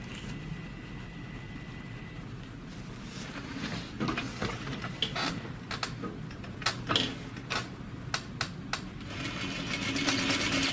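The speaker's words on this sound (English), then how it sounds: "We'll be stitching at 1/4 inch from this top edge down to that notch." Sewing machine sewing a fly front zipper on trousers, a soft steady whir with scattered ticks and clicks, fairly quiet and close, no voices.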